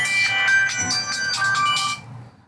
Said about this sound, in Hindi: फोन आ रहा है, जस्ट वेट।